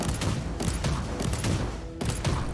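Bolter gunfire in the video game Warhammer 40,000: Inquisitor - Martyr, a dense, continuous roar of rapid heavy shots with brief surges, loud and unbroken for a couple of seconds.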